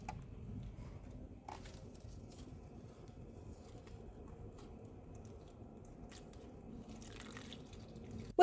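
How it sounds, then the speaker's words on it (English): Water splashes and drips faintly while plants are watered indoors, a quiet steady trickle with soft scattered droplets and a few slightly louder splashes. "I am also watering my plants today"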